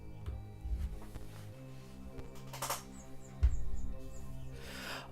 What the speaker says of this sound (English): You guys are actually hearing birds.